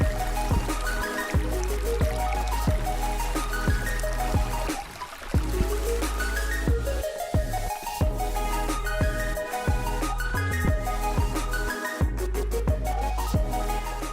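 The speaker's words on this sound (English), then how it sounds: "This is the other small water crossing just before Skylight Brook." A small unnamed stream crossing just before Skylight Brook on an Adirondack hiking trail: steady close trickling and gurgling water, continuous and fairly loud, with occasional crunching footsteps.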